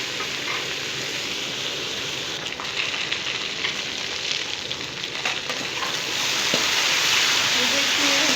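Okra pieces deep frying in hot oil, a steady close sizzle and crackle that runs the whole time and grows a little louder near the end.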